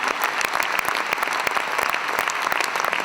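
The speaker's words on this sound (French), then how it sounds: "Pascal et Laurence, on les applaudit encore très fort" An arena audience at a live comedy show in Bercy claps loudly for two stage volunteers, a dense, continuous burst of applause.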